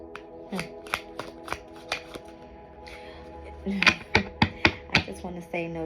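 Tarot cards are shuffled by hand in a rapid riffling run, with sharp card flicks that grow denser and louder near the end, heard close up over a steady low hum.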